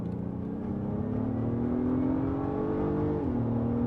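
A 2024 Acura MDX Type S V6 in full sport mode accelerates hard, its engine note climbing steadily in pitch before a brief dip at an upshift, heard from inside the cabin with no talk.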